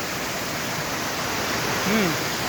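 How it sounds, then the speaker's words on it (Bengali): A waterfall with a strong current pours over slippery rocks at a bathing spot, a steady, dense rush of falling water that fills the whole clip, with a brief faint voice-like trace near the end. "তার মাঝখানে দেখুন ওয়াটারফল।"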